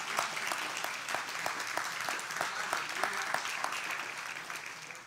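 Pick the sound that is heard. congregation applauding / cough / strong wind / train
congregation applauding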